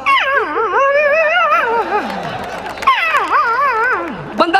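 A comedian's voice imitates an excited dog, rising and falling in wavering yips, whines and howl-like cries, in two long continuous bursts with a short gap between them, loud and close.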